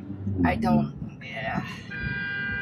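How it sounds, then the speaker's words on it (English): At an intersection, a car horn blares in a sustained tone toward the end at a car making an illegal turn, following a stretch of talking, with traffic noise in the background. "see, I got honked because car's making an illegal turn right here"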